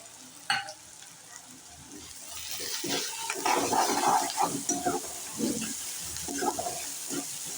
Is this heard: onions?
yes